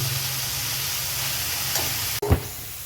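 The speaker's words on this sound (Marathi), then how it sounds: "चांगल्या प्रकारे परतून घ्यायचे आहे भाज्यांनी स्वतःचं तेल सोडलं पाहिजे तोपर्यंत आपल्याला परतायचं आहे" Onion, tomato and vegetables sauté in oil for pav bhaji, a continuous close sizzle with a low hum, broken near the end by a brief clatter of stirring.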